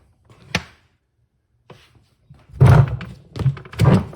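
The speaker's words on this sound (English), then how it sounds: "And now the door's gonna open up." An antique safe door is unlocked and swung open: a sharp thunk of the lock turning, a faint click, then a cluster of heavy, loud metallic clunks as the door moves, close by with no talk.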